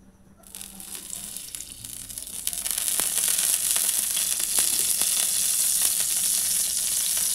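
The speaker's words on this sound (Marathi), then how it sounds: "आता त्या पॅनमध्ये मी तेल टाकून घेते." Oil heating in a pan on a gas stove, rising from quiet to a steady, bright crackling sizzle that holds at a moderate level, close by and with no speech.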